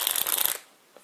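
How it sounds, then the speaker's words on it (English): Playing cards riffle-shuffled in the hand: a quick, dense burst of crisp ruffling clicks for about half a second, stopping abruptly, then a faint tap. "you want to make sure that you master that riffling shuffle"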